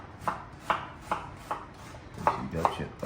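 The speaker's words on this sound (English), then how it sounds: "the onions, I'm gonna actually chop up" Knife chopping through an onion on a cutting board for a vegetarian Italian sausage and tomato sauce, with about seven crisp, evenly spaced chops, fairly close and moderately loud.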